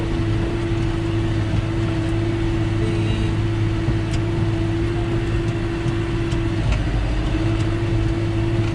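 An old blue tractor pulling a harrow drones steadily through the whole stretch, its engine tone holding constant apart from a brief dip near the end, loud and close with no talk.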